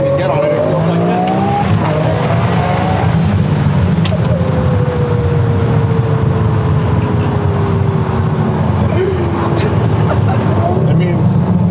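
A Gintani twin-turbo Lamborghini Aventador SV roars hard under acceleration, its loud high-pitched engine note climbing through gears with turbo spool, sustained and close throughout.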